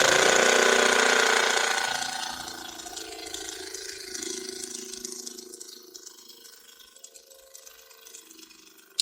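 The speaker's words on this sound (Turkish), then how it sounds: "Şu an tekrardan kompresörü çalıştırıyorum" An air compressor runs while inflating a bicycle tire from about 30 to 50 PSI, giving a loud mechanical rush at the start that settles into a softer, fading hiss and hum, with a click at the very end.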